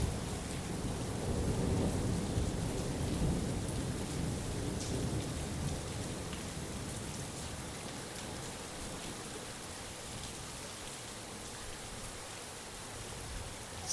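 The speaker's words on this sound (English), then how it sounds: "Our first proper rainstorm." Heavy rainstorm over a house in Sicily, a steady dense wash of rain close by with low thunder rumbling through it, loudest early on and easing slightly toward the end.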